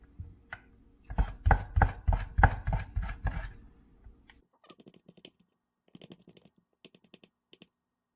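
A knife chops Wagyu beef trimmings on a cutting board in a quick run of heavy, close thuds, followed by lighter, sparser taps as the cutting slows.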